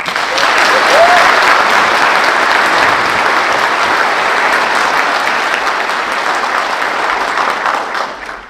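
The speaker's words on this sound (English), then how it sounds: "Please give them a round of applause." Loud, full applause from a military change-of-command ceremony audience at Camp Roberts, California, holding steady for several seconds before tapering off.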